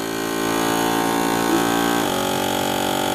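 A vacuum sealer draws air from a bag of harvested rabbit meat, a steady, loud motor hum that shifts to a lower tone partway through as the sealing starts.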